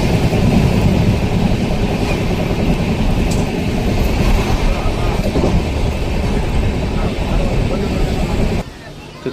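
The Venkatadri Express pulls out of Tirupati in heavy rain, a loud, continuous rumble and clatter of rolling coaches filling the whole stretch before easing slightly at the very end.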